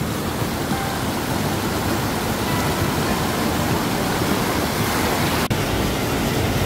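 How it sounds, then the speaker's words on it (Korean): A waterfall on the Hwaaksan mountain valley stream roars as a steady, dense rush of water heard up close, constant and unbroken with no talking. "여기 폭포도 있고요."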